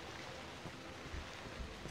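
Boat noise from the horror video game Cry of Fear: a quiet, steady wash of watery rumble and low churning, faint and continuous without clear breaks, with no talking over it.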